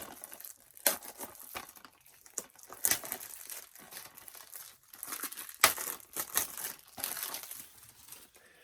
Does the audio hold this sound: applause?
no